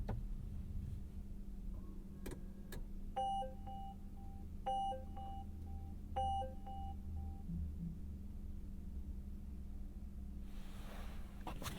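A 2021 Polestar 2 electric car boots up inside the cabin with a few short electronic chime sequences, each a quick cluster of clear tones repeated three times, over a low steady hum, with a couple of sharp clicks before and no talking.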